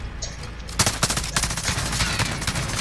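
Rapid gunfire crackles in a video game match, a sniper rifle in use, with several sharp shots landing in quick succession over steady loud game noise.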